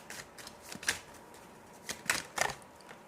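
Oracle cards being handled and shuffled, giving soft crisp riffling bursts in a few short clusters with quiet pauses between, close and faint, with no talking.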